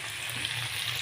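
Broiler chicken pieces and potatoes fry together in a hot pan, giving a steady, close sizzle that holds even and unbroken through the short moment.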